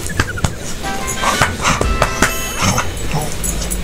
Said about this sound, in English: Hey, pup, you coming up finally? Alright, grab a seat,